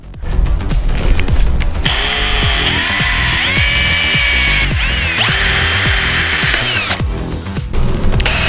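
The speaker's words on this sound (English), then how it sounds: "I think I can just drill some holes and that way I can screw up to the desk" A power drill boring holes into a steel desk frame, a loud whining motor that revs up and down in repeated bursts, with bit chatter and a sustained high-pitched scream of metal in the middle.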